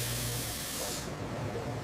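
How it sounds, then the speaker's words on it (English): Spray gun hissing steadily as it applies dye to snakeskin in a leather factory, a continuous close, fairly loud broadband spray lasting about a second before cutting off, leaving a low machine hum beneath. "We primarily use spray application for snakeskin."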